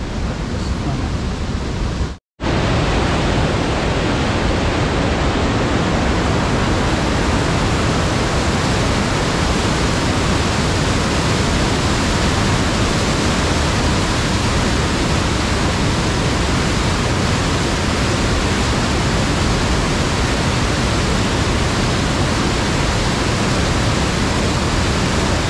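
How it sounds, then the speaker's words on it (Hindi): A river flowing toward Kazakhstan rushes loudly and steadily, a dense, close roar of water filling the whole stretch, broken only by one very brief dropout near the start, with no voices. "नदी जा रही है कजाकिस्तान"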